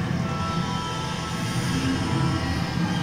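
Steady rumble of a train from a music video, continuous and fairly loud throughout with no talking.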